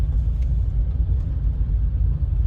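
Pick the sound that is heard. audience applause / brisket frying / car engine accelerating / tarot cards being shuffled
car engine accelerating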